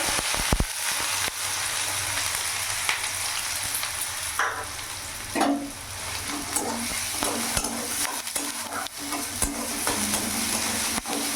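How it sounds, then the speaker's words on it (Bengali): Chopped onion frying in hot oil with whole cardamom and cloves, a steady close sizzle running throughout with occasional scrapes of a spoon stirring the pan. "পেঁয়াজটা আমি ততক্ষণ ভাজবো যাতে পেঁয়াজের কাঁচা ভাবটা চলে যায়"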